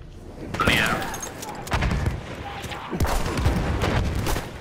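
Bursts of rapid gunfire and sharp shots crack through a Battlefield match, several volleys of varying loudness, with a player talking over the shooting.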